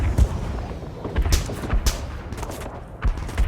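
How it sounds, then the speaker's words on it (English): Grenade blasts in Arma 3 combat, heard as a run of sharp booms and gunfire-like cracks spread across a busy battlefield mix, with several loud impacts one after another and no talk. "Yeah, look, he's just pinging some grenades in."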